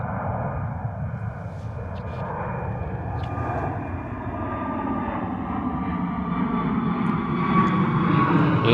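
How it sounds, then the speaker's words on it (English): Turkish Airlines Airbus A321neo jet departing London Gatwick, a steady distant engine roar with a faint whine that gradually grows louder over several seconds. "Lovely departure there from the Turkish A321 Neo."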